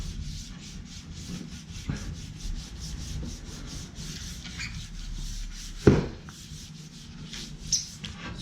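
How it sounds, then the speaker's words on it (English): 1200-grit paper is rubbed by hand, without a block, over a painted motorcycle fuel tank in a light scuff-sand, making soft, quiet scratching strokes with a brief sharper knock partway through. "You don't need a block for 1200, you're just giving it a little scuff."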